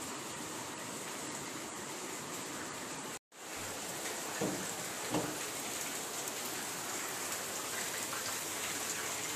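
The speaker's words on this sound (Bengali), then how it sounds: "এই যে বৃষ্টির সময় সাধারণত দেখানো হয় না, এই যে এই ফুলগুলোর উপরে জল পড়ছে।" Steady rain pattering onto pink lily flowers and the ground nearby, a dense even hiss with a momentary cutout and a few louder drips, no voices.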